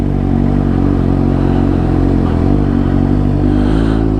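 Motorcycle being ridden, a loud steady engine drone with strong low harmonics and a slight dip in pitch midway, plus rushing wind, continuous and close.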